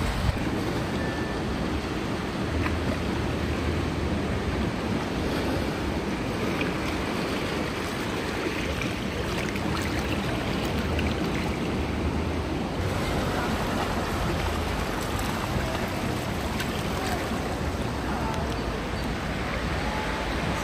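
Steady ocean surf at Maracas Beach, a continuous dense wash of breaking waves and wind that stays loud and unchanging throughout, with no voices.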